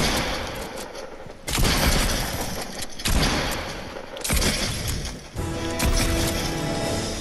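Fortnite gunfire in rapid bursts, several loud volleys of shots separated by brief gaps, with sharp attacks and ringing tails, close and forceful.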